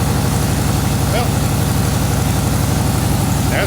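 A Ford 460 V8, restarted after about ten years dormant, idles with a loud, steady, even low rumble and regular firing pulses, close up and continuous.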